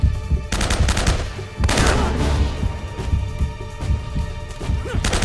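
Gunfire in the Uncharted: Drake's Fortune video game, including a shotgun, rapid bursts of shots and impacts in dense clusters, loud and close with short gaps between volleys.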